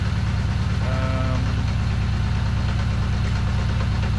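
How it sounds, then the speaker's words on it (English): Kawasaki Z550 motorcycle engine, a GPz550D1-style build, idling steadily with a low, even pulsing throb, close and alone for the whole stretch. "I really wanted to satisfy myself that there was nothing wrong with the engine in how it was running"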